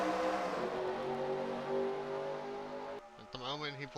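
Race car engines roar and drone together as the pack takes the green flag at Daytona in a 1970-era sim racing league, with a commentator talking over the steady engine noise.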